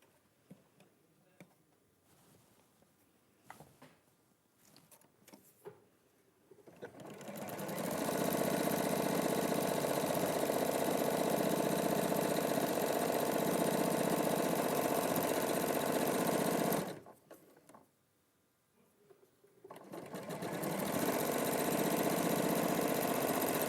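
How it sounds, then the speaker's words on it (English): Sewing machine running steadily while stitching a quilt seam, a loud continuous whir that starts after a few quiet seconds, stops briefly, then resumes. "And then you're just going to sew that."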